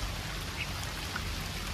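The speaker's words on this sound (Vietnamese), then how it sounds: "đang chuẩn bị nướng cá mưa luôn rồi," Steady rain falls outdoors beside a garden where fish is being grilled over a smoky fire, a dense, even hiss of drops holding at a moderate level throughout with no voices.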